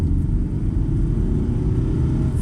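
A Peugeot 406 Coupe with the 2.2 HDi diesel revs toward 4,000 rpm on a country road, giving a steady loud low rumble heard from inside the car with no talking.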